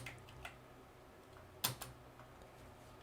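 A computer keyboard is typed on in a few sparse, faint keystrokes, including one sharper pair of clicks, over a quiet background hum.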